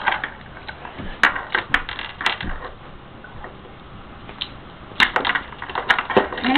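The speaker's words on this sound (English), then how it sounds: "You're going to put them on top of each other like this. And you're going to take it and make sure you lock it" Two handcuffs stacked on top of each other and locked together give close metallic clicks, ticks and rattles in two bursts, one early and one near the end, separated by quieter handling.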